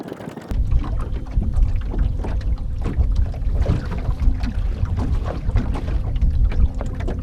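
A boat moves across a lake while trolling for pike, giving a steady low engine and water rumble with wind buffeting the microphone, close and continuous, and no talk.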